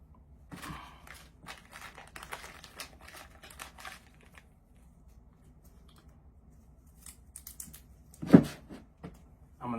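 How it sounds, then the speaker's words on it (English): Medical tape being torn and pressed onto the end of IV tubing, a series of crinkly ripping and tapping sounds close by, with a louder crackle near the end. "I'm gonna tape off the opposite end of the tubing"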